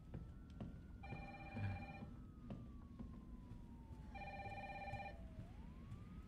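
Two bursts of an electronic telephone ring in Resident Evil 3 Remake, each about a second long and spaced apart, quiet against a low ambient drone with a faint sliding tone in the background.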